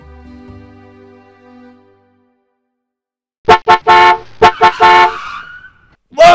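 A car horn blares in a street in a series of loud, close honks, some short and some held, after a quiet stretch of soft background tones.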